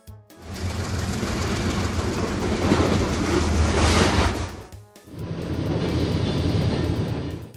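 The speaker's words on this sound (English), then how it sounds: "High-speed train." A high-speed train rushes past at close range as a loud, sustained roar with rising hiss, a brief dip, then continuing rumble of cars going by.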